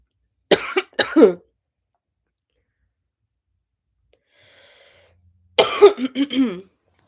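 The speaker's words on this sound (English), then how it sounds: "it's like that annoying little cough that randomly comes" Short bursts of coughing from someone recovering from an illness, a quick dry cluster near the start, then near silence, then another rough cough-like burst, close to the microphone with no talk.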